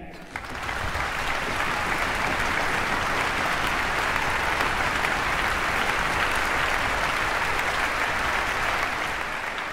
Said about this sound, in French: je vous demande d'applaudir, John Yale